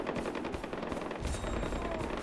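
Gunfire in the video game Far Cry 4, dense overlapping bursts of automatic weapons fire, loud and continuous throughout the short stretch, with no talking over it.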